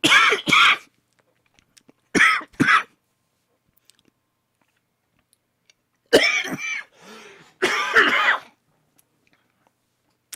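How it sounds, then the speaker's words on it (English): Several separate coughs sound close to the microphone in short bursts: a single hack, then a quick pair, then two longer, rougher fits, with silence between them. "This made me cough really bad."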